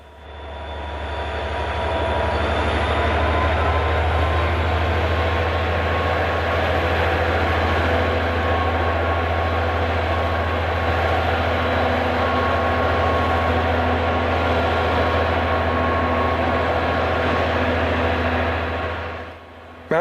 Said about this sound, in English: leads a mixed manifest train through the town of Reveston.